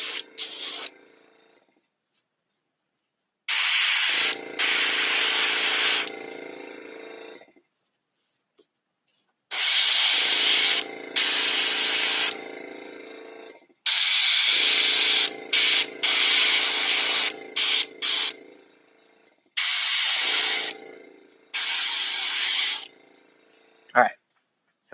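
An airbrush sprays paint on a chibi Miyamoto Musashi model in bursts of hissing air, several sprays of a few seconds each separated by silent pauses.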